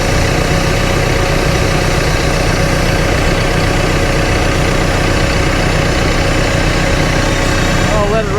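Cat TL1055C telehandler diesel engine idling after a turbo repair and oil change, a steady loud rumble with a constant low drone running unbroken for the whole stretch.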